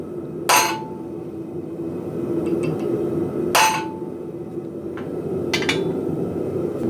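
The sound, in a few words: hammering a center punch into metal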